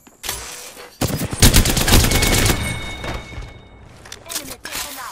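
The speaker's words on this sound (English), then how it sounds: "Making contact with enemy. Opening fire." Gunfire in the video game Apex Legends, loud bursts of rapid automatic shots with sharp impacts, nearly continuous for several seconds, with speech heard in the mix.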